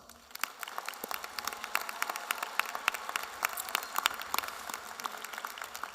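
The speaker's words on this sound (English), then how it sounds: "Please give students and staff a round of applause." A high school graduation crowd claps for the students and staff, many distinct hand claps ringing out in a moderately loud, uneven patter that holds steady for six seconds.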